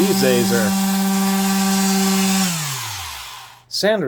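A Black & Decker 4010 orbital sander, a professional model, runs with a steady loud hum, then winds down and stops partway through. A brief thump or handling noise follows near the end.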